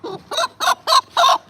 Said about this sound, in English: So I'm just going to pick up this rooster.